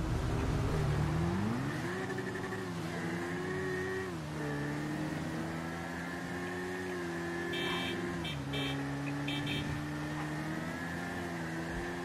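Car engine droning in the GTA V video game during a deathmatch car chase, a continuous loud tonal hum that rises and falls in pitch as the car speeds up and eases off, with faint beeping in the background.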